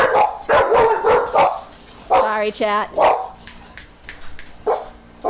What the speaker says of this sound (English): The dogs always love to say hello.